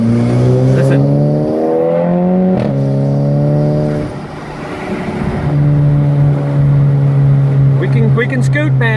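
Fast car revving and accelerating, its engine climbing through gears in loud rising sweeps with a brief dip midway, heard from inside.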